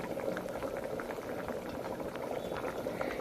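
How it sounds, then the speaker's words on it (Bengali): A thin sweet-sour mango curry boils in a pot, giving a dense, even bubbling with small pops, close and steady throughout. "খুব সুন্দরভাবে ফুটিয়ে নিচ্ছি"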